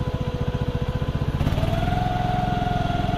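A Walker riding lawn mower's engine idles with a steady pulsing chug, then is revved up partway through into a higher, smoother drone that holds close and loud.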